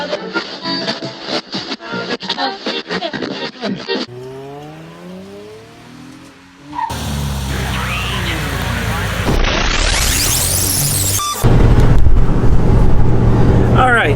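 A pickup truck drives along, with engine and road noise that shift through several abrupt changes and a rising whine near the middle, loud and close, while someone talks over it.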